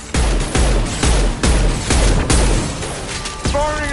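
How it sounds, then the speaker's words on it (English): An impact shot in the sci-fi shooter Mass Effect 2 fires as a string of heavy booming blasts, about seven in a steady rhythm, loud and close, with a metallic ringing tone at the end. "Firing an impact shot!"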